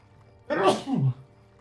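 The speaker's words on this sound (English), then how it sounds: "I sneezed." A single close, sharp human sneeze during a game session, a quick inhaled build-up followed by an explosive burst that drops off, heard on its own without talking.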